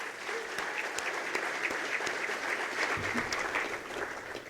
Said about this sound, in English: We are all, let's clap.